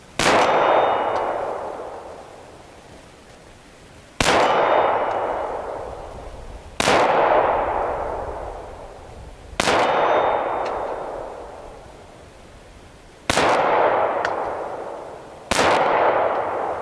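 A Beretta Nano 9mm pistol fires six separate shots at steel targets 40 yards away. Each sharp report is followed by a long ringing clang from the struck steel, with irregular gaps between the shots.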